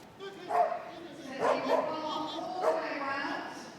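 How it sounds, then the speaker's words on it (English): A very vocal large agility dog barking and yipping repeatedly during an international competition at Crufts, with several loud close barks in bursts under arena commentary and crowd noise. "Very vocal dog, this one."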